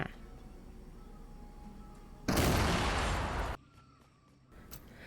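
Remote explosives detonate in the Fortnite video game: one loud, broad blast bursts in midway and holds for about a second before cutting off, with quieter game ambience around it.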